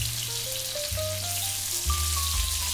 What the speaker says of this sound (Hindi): तेल गर्म हो गया है अपना, डालेंगे इसमें हम अपने बोमिल।